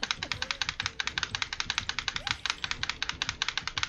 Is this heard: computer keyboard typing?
yes